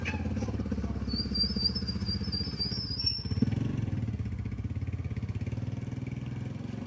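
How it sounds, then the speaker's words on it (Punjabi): A motorcycle engine drones steadily nearby for several seconds, a constant low rumble with a brief high whine early on and a slight swell midway as it goes past. "ਇੱਕ ਮਿੰਟ, ਮੋਟਰਸਾਈਕਲ ਲੰਘ ਲੈ।"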